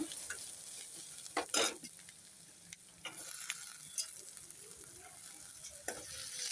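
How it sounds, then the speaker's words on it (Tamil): Onions and chopped tomato sizzle in a pan for prawn gravy, with a spatula stirring and scraping in bursts; steady frying hiss underneath, close up, no talk. "தக்காளியை சேர்த்து கொஞ்சம் நல்லா வதக்கிக்கலாம்."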